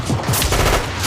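Mortar and machine-gun fire in a war drama, heard as a dense, loud burst of overlapping blasts and rapid shots lasting about a second.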